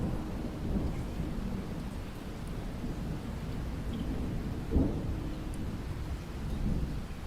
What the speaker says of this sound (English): The rain was relentless, pelting the windows in a steady rhythm